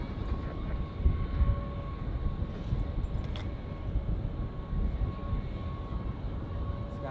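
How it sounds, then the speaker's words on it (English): A Swiss Airbus A330 takes off at Zurich Airport, heard from a distance as a steady, broad engine roar with a faint whine. "Time for the Swiss A330 to Dubai."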